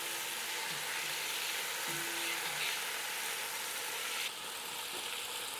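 Thick-cut beef sears in a pan with a steady, moderate sizzle and hiss throughout, fairly close and alone, easing slightly near the end.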